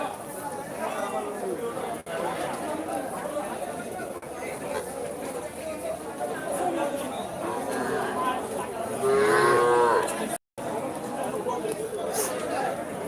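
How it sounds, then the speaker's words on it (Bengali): Crowd chatter fills a cattle market in Pathariya, Dirai, Sunamganj, and people talk throughout. Livestock sit in the background, and a short, low moo rises near the end. "আজকে দেখা গরু বাজারের অবস্থা খুবই খারাপ"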